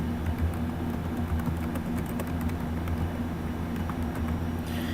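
Rapid, light keystrokes on a computer keyboard while entering text in Microsoft Word 2013, soft close clicking over a steady low hum, with no talk.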